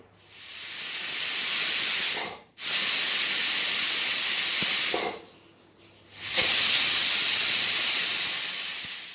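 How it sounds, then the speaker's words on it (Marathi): Three loud, sustained hissing bursts of steam escape from a pressure cooker whistle on a gas stove, separated by short pauses, close and steady. "आता आपण कुकरचं झाकण लावून तीन शिट्ट्या काढून घेऊया"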